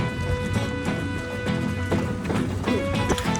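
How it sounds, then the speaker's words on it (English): Running footsteps on a 10 km race course during an Indian Navy half marathon, quick repeated foot strikes thudding close by over a busy outdoor background, with faint voices in the mix. "Can you hear the sound of the footsteps?"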